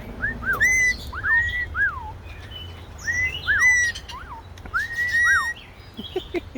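A pet bird in an outdoor aviary repeats clear, bright whistled calls in short rising and falling phrases, loud and close, with brief pauses between bursts and no talking.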